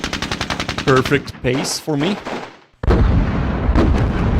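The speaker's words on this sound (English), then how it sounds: "How's the sound with the explosions, by the way?" Gunfire and explosions in the tank war game Squad Battles Eagles Strike: a rapid run of shots, a quieter stretch, then a sudden loud, sustained rumbling blast, with someone talking over the first part.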